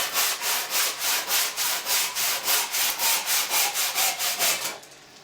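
Hand saw cutting through a breeze/cinder block, about eighteen steady rhythmic rasping strokes, close and loud, stopping near the end.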